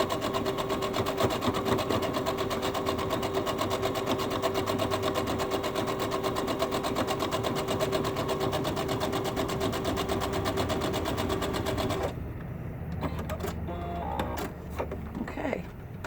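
Steady, fast mechanical stitching of a sewing machine running a seam on a welder's cap, continuous and close for about twelve seconds before stopping, followed by quieter handling noises.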